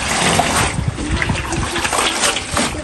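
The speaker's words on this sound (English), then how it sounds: "Normally wash it off. Yeah. So all the soil, the dirt will be washed." Running water splashes and trickles continuously while freshly harvested organic vegetables are rinsed of soil in a garden, loud and close throughout.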